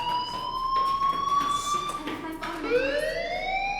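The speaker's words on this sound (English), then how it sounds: "do you hear that fire alarm?" Fire alarm ringing in the Life Is Strange video game, a loud sustained electronic tone that holds steady then slides and rises again, with a voice speaking over it.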